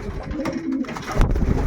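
Pigeons cooing close by in a loft where the hens sit on their eggs, with soft rolling coos running through the short stretch.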